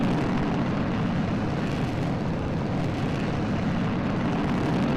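A rocket engine in Kerbal Space Program, modded with RP-1, roars as a loud, continuous broadband rumble that holds steady throughout without pause.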